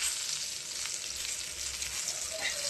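Eggplant frying in a pan, a close, constant hissing sizzle with faint crackles throughout and no voices.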